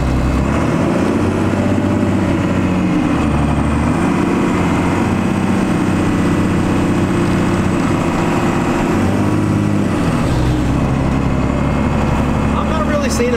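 A vehicle engine drones steadily on the road, a continuous low rumble that holds close and even throughout with slight shifts in pitch.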